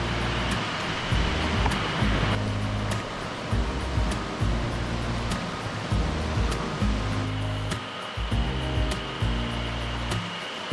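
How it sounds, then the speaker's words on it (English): A gorgeous river near Yasu Falls in Akita rushes steadily in a continuous loud roar of flowing water, close by and with no voices. "But damn, the river is gorgeous."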